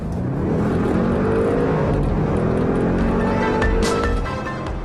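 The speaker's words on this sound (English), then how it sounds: "The Avant responds to the gas instantly." An Audi RS6 Avant accelerating hard, a loud, steady engine roar that holds its strength and rises slightly in pitch, heard up close without talk.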